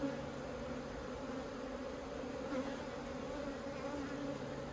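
Honey bees buzz steadily and densely inside an open hive during the introduction of a new queen to a split nucleus, a continuous close-up drone with no talking.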